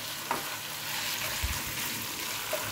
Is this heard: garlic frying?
yes